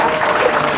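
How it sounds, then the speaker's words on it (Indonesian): Applause from an audience at an Islamic Halal bi Halal gathering with a pantun-reciting preacher, a dense, steady wash of clapping heard close and loud for a brief moment. "tolong dong tepuk tangan."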